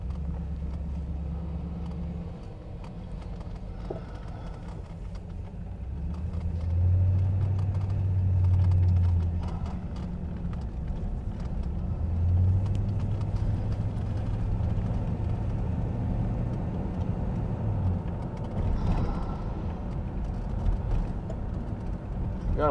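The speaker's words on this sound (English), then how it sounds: "see how it going down the freeway at 70 miles an hour, 75 miles an hour we hit" Inside a 1979 Lincoln Mark V cruising on a freeway at 70-75 mph, a steady low engine and road rumble fills the cabin, swelling at moments, with a voice speaking at times.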